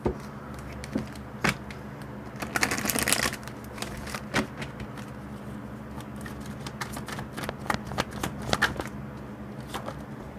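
Tarot cards being shuffled and riffled close up, with soft flicks and a brief louder burst of riffling, over a low steady hum.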